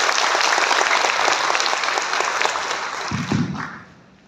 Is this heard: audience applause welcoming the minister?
yes